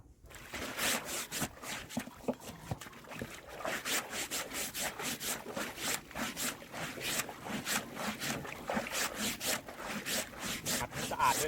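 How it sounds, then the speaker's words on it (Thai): A brush scrubs a fish trap on a boat, giving a steady, rapid rasping rhythm of back-and-forth strokes, close and continuous throughout. "ขัดให้สะอาดด้วยนะครับ"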